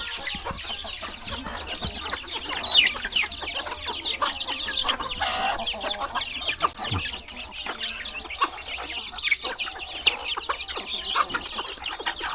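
Chickens cluck and chatter in a rural Thai village, a busy flock heard continuously and fairly close, with a faint rooster crow and other birds mixed in and no talking.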